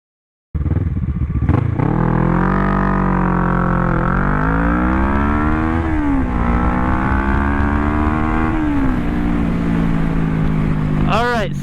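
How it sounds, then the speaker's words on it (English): A Kawasaki ER6N 650 parallel-twin motorcycle on Dunlop Mutant tires starts up close and loud, then its engine note rises and falls through several gear changes while riding. "So we are on the Kawasaki ER6N 650. We do have the Dunlop Mutant tires installed."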